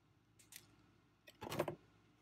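Wire cutters snip a metal jewelry head pin, giving a faint tick, then a louder, sharper metallic click after a short pause, set against a quiet room.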